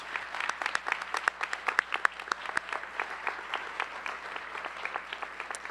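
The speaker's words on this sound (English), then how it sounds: "Let's give another round of applause for these outstanding scholars." Audience at a senior scholars induction ceremony giving a round of applause, fairly faint with individual claps standing out, tapering off toward the end.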